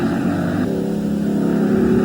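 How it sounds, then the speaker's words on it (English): A 1970 Ford Mustang race car's engine drones steadily and loudly while braking into a corner, a continuous mechanical roar with engine-braking overrun, no talk. "But it's Geoghegan's Mustang that's leading, and still leading as they come down to Creek Corner"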